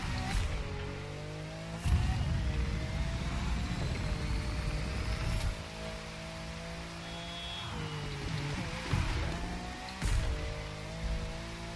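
A Lamborghini Aventador LP 700-4 drives at night in The Crew 2. Its engine drones steadily with rising and falling pitch through gear changes, and a few sharp bursts stand out along the way.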